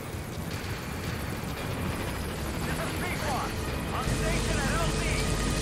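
A B-Quad helicopter arrives at a landing zone in Metal Gear Solid V. A steady rotor drone grows louder and fuller toward the end, while voices talk over it.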